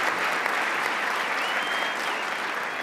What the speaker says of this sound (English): So a round of applause to the Technology Innovation Agency.